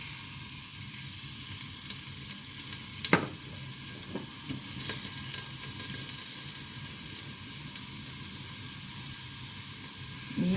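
Beef, soaked to draw out the blood, sizzles in hot sesame oil in a pan, a steady frying hiss with a few sharp crackles and stirring scrapes and no talking.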